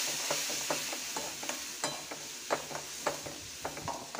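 A spoon scrapes and taps in a pan as ground peanut chutney is stirred into sizzling cooking vegetables, with soft frying hiss throughout and intermittent clinks close by, no talking.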